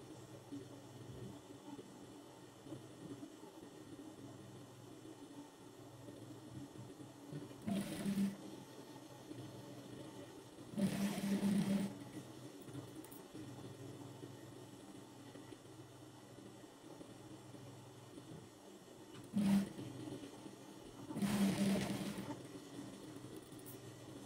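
A sewing machine stitching four patchwork fabric strips together for a cushion cover, heard as four short bursts of whirring stitching separated by quiet pauses, fairly faint.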